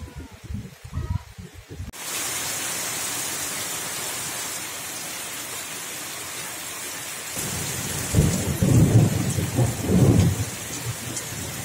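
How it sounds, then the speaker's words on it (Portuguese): A thunderstorm moves over a newly planted lawn of Tifton 85 grass. Steady, loud rain hiss starts suddenly, and a deep rolling rumble of thunder swells near the end. "fechou o tempo e tá começando a chover já"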